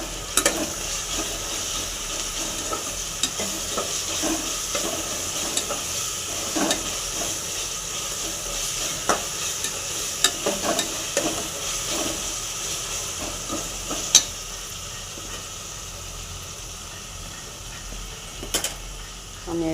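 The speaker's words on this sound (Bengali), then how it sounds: "আদা রসুন বাটা দিয়ে ভালো করে আদা রসুনটা ভেজে নেব।" Ginger-garlic paste fries in a hot pan with a steady hiss and sizzle, crackling throughout with occasional sharper pops, close and continuous with no talking.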